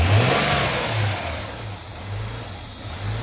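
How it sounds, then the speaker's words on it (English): A Hyundai Santa Fe V6 engine idles unevenly, a steady low rumble that surges and dips without settling, running alone with no talk. "Now I'm not sure what this erratic idling's all about."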